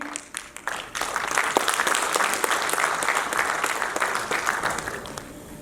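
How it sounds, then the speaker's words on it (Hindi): Sustained applause from a crowd at a speech in an arts council hall, many hands clapping steadily for several seconds before tapering off at the end. "अगर तालियां बजानी है तो फिर तालियां बजाएं"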